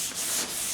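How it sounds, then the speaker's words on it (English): Wet sanding of body paint on a 1977 Camaro Z28 gives a brief, close, steady rubbing hiss. "So this guy, we're probably just going to go straight to wet sanding."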